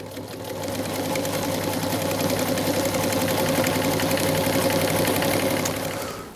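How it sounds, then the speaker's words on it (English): An old sewing machine stitches seams on canvas panels for a truck canopy, giving a steady, close, humming whir with a fast rhythmic chatter that runs unbroken for about five seconds, ramping up and then tapering off at the end. "So I'm just busy stitching some seams on these panels, which is the first order of business here."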